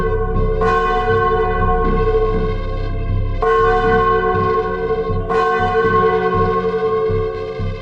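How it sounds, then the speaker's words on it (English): Village bell rung after sunset, with loud, ringing strikes that come in a slow, repeating rhythm. Each strike rings on and blends into the next, with no other sounds. "the bell rang."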